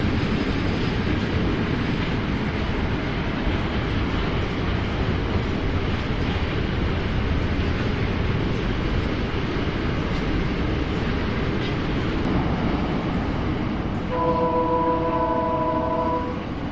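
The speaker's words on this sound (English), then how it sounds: "Really big trains out here." A large freight train rolls past in the open Australian countryside, a loud, steady rumble and rattle of wagons filling the whole stretch, with a horn-like tonal note sounding near the end.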